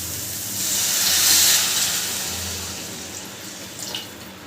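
Water poured into chicken masala frying in a pan for an Odia fish and potato curry, a steady splashing pour that swells and then trails off, with no voices.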